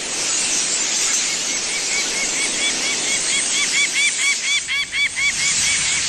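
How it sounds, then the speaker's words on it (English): A flock of migrating starlings in Denmark gives a dense, loud chorus of squealing, honking calls that grows busier and more rhythmic toward the end, with no talk. "In Denmark, these starlings are on their way south to Britain."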